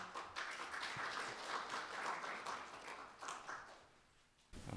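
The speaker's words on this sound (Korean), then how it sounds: "박수 부탁드립니다." A seminar audience at a 2015 eco-friendly energy self-sufficient island event applauds in a dense, steady wash of clapping that gradually fades away, followed by a sudden louder noise at the very end.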